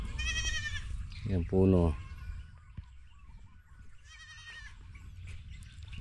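Untethered goats on a farm near cornfields in Cabiao, Nueva Ecija, bleat in three separate calls: a short one, then a loud, close cry, then a softer one, with a person speaking briefly between them.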